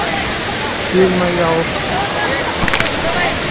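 Kalu waterfall in Maharashtra, a constant broadband rush of falling water close by, with a few brief spoken words over it.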